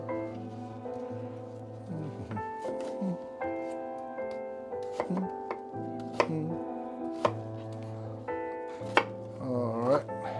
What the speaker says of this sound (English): How do you cut an onion? Like this.